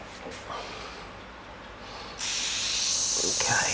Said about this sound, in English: the airbrush is working